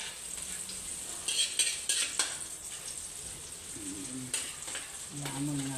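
Large crab frying in melted margarine with garlic, giving a soft, constant sizzle under irregular scrapes and light clatter from stirring in the pan, heard fairly close and fairly quiet.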